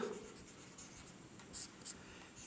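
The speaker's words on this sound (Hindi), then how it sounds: "यहाँ लिखेंगे" A pen writes on paper during a class 9 geometry proof lesson, giving faint, soft scratching strokes in a quiet room with no talking.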